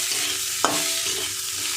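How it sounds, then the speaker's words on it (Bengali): Fried potatoes are stirred into simmered chickpeas in a pan for a water spinach dish, a soft sizzle under a single scraping stroke of a spatula and lighter stirring after it. "ভেজে রাখা আলুটা দিয়ে একটু মিশিয়ে নেব।"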